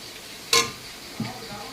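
Tomato paste with ginger, garlic and cumin frying in a pan, a single sharp clink of utensil against pan followed by a softer scrape over a low background sizzle, brief and close.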